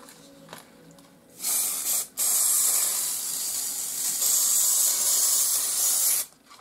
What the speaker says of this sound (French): Donc là je vais appliquer de la bombe pour pastel.